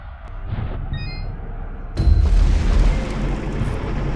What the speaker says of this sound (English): Those enemy cannons are far too powerful.